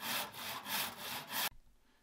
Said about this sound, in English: Now I'm gonna use my miter box and just a regular handsaw to make these cuts.